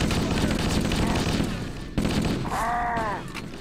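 Gunfire from a friendly Marine shooting at the player in Halo CE, a dense rattle of repeated shots running through the whole stretch, loud and close, with a brief tonal game sound near the end.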